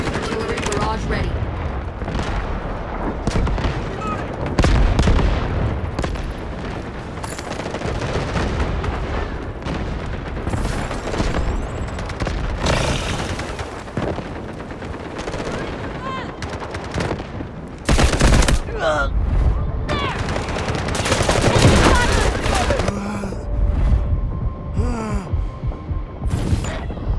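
Artillery barrage and gunfire in the video game Delta Force: dense, continuous booms, rattling shots and heavy thuds over a low throbbing hum, with game voice callouts between.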